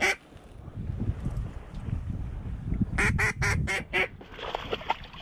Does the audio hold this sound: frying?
no